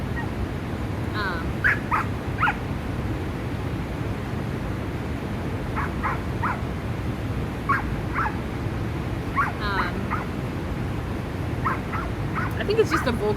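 A vocal puppy lets out short, scattered yips and little barks in clusters, sounding moderately close over a steady background hiss, with some voice-like murmuring mixed in.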